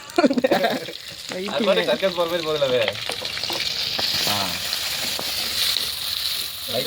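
Onions, pepper and cloves sautéing in a pan for sundal biryani, a steady sizzle and fry with stirring, heard beneath a voice talking and laughing near the start.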